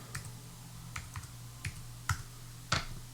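A few short, crisp key presses on a computer keyboard while a zip code is entered, isolated taps spaced irregularly over a quiet low hum.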